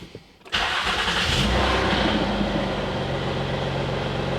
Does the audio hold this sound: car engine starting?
yes